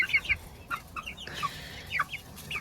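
Speckled Sussex chickens cluck inside their coop with a run of short, close, chirpy clucks in an irregular rhythm over a quiet background.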